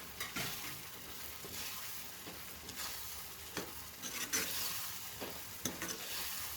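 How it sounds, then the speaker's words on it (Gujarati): Chickpeas being stirred through yogurt masala in a hot pan, with a soft sizzle running beneath repeated scraping strokes of the spoon, close and steady, no voices. "દહીં સાથે મસાલા શેકાવાની સરસ એવી સુગંધ આવે ત્યાં સુધી તમારે થોડું આ રીતે ચલાવતા રહેવાનું."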